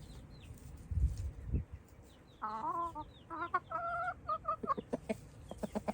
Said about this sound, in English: The chicken ASMR.